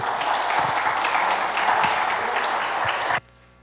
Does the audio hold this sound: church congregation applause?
yes